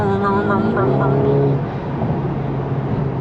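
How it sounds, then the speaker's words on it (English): Ferrari Roma engine downshifting: quick rising revs that blip and then settle into a steady hum, heard close, while people talk over it. "Just downshifts."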